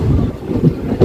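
A train pulling into Ullal railway station, Karnataka's first station, heard from on board as a close low rumble of wheels and carriages with a faint clack near the end, no voices.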